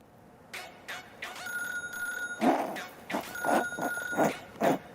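A telephone rings with repeated electronic trill bursts, moderately loud, alongside scattered knocks and background noise.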